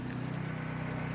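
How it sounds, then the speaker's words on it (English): Portable generator running to power high-speed cameras at an outdoor shoot, a steady low droning hum with constant broadband noise, no other events in the brief stretch. "The sound you hear is a generator powering the cameras."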